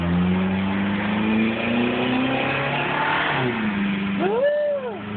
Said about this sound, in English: Is that a car?